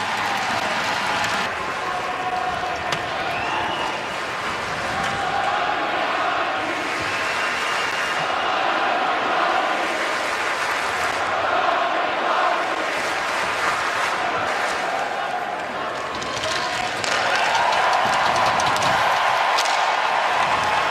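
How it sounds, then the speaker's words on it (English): A hockey arena crowd in Columbus cheers and applauds in a sustained, roaring wash that swells toward the end, heard at a distance with no clear voices above it. "Big cheer from the fans here in Columbus."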